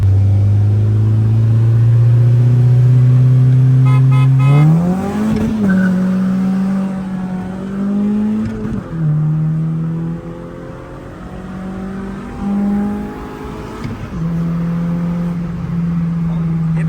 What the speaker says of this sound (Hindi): यहाँ पे पहली रेस होने जा रही है छोटे साहब वर्सेस अहमद भाई की कूल एडिशन टोयो